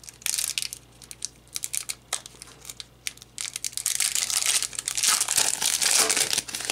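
Yu-Gi-Oh Next Challengers booster pack wrapper torn and crinkled open, close-up plastic foil crackling in bursts that build into a sustained rustle toward the end.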